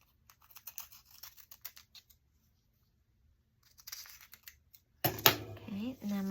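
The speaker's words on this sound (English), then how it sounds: "I'm going to cut that corner off right there." Scissors snip the corner off a sheet of paper while making a holiday gift tag, giving a short run of close, crisp cuts followed by quiet, then a few more snips and louder handling at the end.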